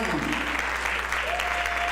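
Audience applause welcoming a speaker at a talk on sinners in history, a brief burst of dense clapping with a voice speaking over it.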